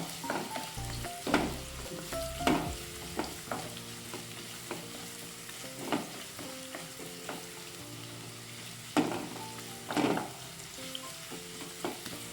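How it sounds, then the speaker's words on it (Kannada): Onions frying in oil in a pan for vermicelli upma, a steady close sizzle with intermittent sharp scraping stirs every second or two. "ಈಗ ಈರುಳ್ಳಿ ಫ್ರೈ ಆಗಿದೆ"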